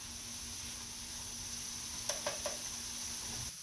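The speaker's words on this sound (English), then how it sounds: "let it cook down until these onions start to get softened up a little bit" Onions and venison egg roll filling sizzling softly in a pan, a steady quiet frying hiss with a few light scrapes and taps of stirring near the end.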